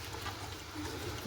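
Water, about double the amount of rice, is poured into a pot of rice and masala for a dum-style dish, making a steady, continuous splashing trickle that stays fairly soft and even throughout, with no talking.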